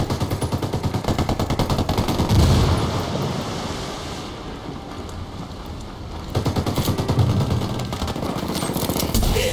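Sustained automatic gunfire in a video game, rapid loud bursts that roll on nearly continuously, with a heavy blast-like swell partway through and the firing resuming hard afterward.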